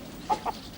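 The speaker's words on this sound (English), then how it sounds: "Come on, little chickens." Two short clucks from a chicken in a comedy scene, quiet and close together, set against a faint steady room background.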